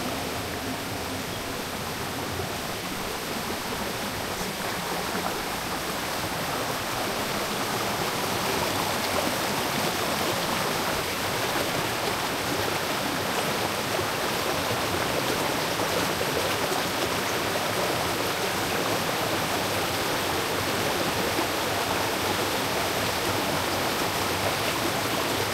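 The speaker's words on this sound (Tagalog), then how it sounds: "rinig mo yung agos ng tubig" A stream flows near a reservoir in Hong Kong's Hok Tau area with a continuous, even rush of water, steady and fairly loud throughout with no voices.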